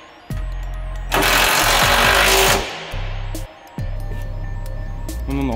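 Loud pneumatic impact gun running down 19 mm nuts on fuel tank straps of a 2016 Ford F550, in steady bursts of several seconds with a long sustained whirring run in the middle and short pauses between.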